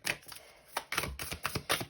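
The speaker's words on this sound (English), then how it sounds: "I'm gonna take you and keep shuffling." Tarot cards being shuffled by hand during a card reading, a series of quick papery riffles and taps in uneven bursts, close and fairly quiet, with no talking.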